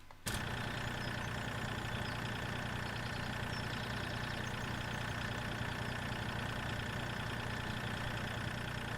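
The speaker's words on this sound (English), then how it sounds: "This tractor sounds like a one-lunger." In the video game Farming Simulator 13, a tractor engine idles with a steady, rough, low chug that rises after a short quiet start and then holds constant, close and alone.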